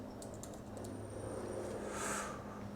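Quick keystrokes on a computer keyboard as a search term is typed into a freelance website, a short soft burst of clicks over a faint background hum, no talking.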